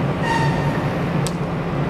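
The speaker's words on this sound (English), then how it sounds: "We're heading to the other side of the river and we just took the train just for the fun of it." A train at South Brisbane station gives a steady low rumble of rolling wheels with a brief high squeal partway through, continuous and fairly close, with no talk.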